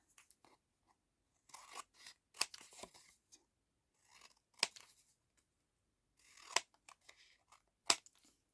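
Scissors trim paper for a nature-themed junk journal collage in a quiet room, giving short bursts of crisp snipping and rustling separated by silent pauses.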